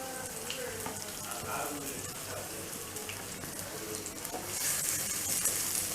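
Cabbage and capsicum stir-fry in a hot pan for Thai noodles, giving a steady, close, crackling sizzle that grows a little louder toward the end.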